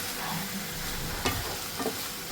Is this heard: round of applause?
no